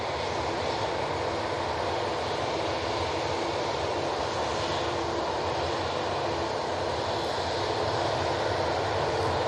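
Airliner on a flight to Tivat rumbling steadily at Manchester Airport, a loud continuous broadband engine roar with a faint hiss that holds evenly throughout, with no voices.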